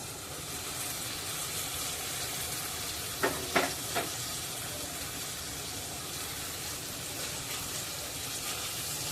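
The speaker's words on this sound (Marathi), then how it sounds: "भाजीवर झाकण देऊन पाच मिनटं मंद गॅसवर भाजी शिजायला ठेवूया" Potato sabzi cooking in a covered pan on low gas gives a steady, even sizzle throughout, broken briefly by a few small clinks near the middle.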